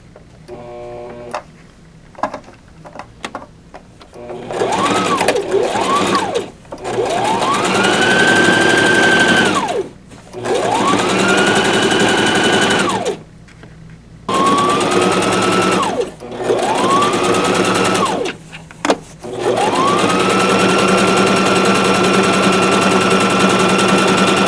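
A sewing machine stitches the lining of a canvas tote in several loud, steady runs of a few seconds each, separated by short pauses, with light handling clicks in between.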